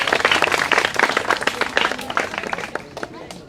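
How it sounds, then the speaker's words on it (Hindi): Audience applause at a village event in Uchana, a burst of close clapping from a crowd that thins and fades toward the end, with voices over it. "तालियां"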